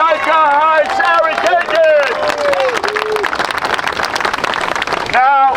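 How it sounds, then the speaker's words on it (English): Crowd at a street protest rally in Bay Ridge claps and cheers loudly and continuously for several seconds, a dense wash of applause around and after someone speaking through amplification. "Let's have a great round of applause for your next councilman here"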